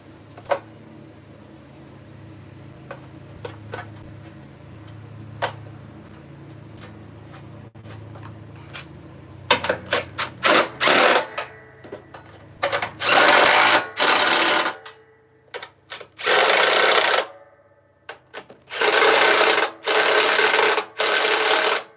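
A nearly dead cordless impact wrench pulls bolts from a Kubota G1800 mower deck. After a quiet stretch with a few faint ticks, it fires in a string of short, loud buzzing bursts that grow longer, separated by brief pauses.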